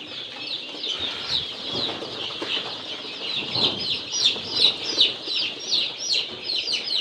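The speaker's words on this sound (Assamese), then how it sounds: "এয়া 40টা পোৱালি, এয়া চাব পাৰে ব্ৰডিং পোৱালি 40টা" Forty local chicken chicks being brooded chirp together in a busy, overlapping chorus of high peeping calls, close and continuous, with a few soft flutters and no speech.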